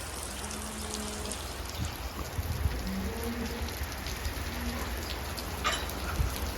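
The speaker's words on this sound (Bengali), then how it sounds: "তো বৃষ্টি হচ্ছে দেখেন আপনারা" Rain falling on a cow farm in Saudi Arabia, a steady dense patter across the whole stretch, with scattered drips and faint background knocks, no voices.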